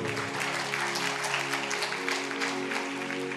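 A congregation claps loudly and steadily during a church sermon. The dense applause fills the whole stretch over a faint, sustained tone.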